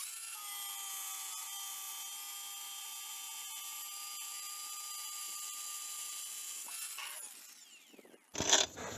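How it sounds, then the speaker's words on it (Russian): A cordless angle grinder fitted with a saw disc cuts a plain piece of cabinet glass, giving a steady, piercing high whine for several seconds that fades briefly before a short, loud gritty burst. "нашел простой кусок стекла от какого-то шкафа. Сейчас попробуем его отпилить"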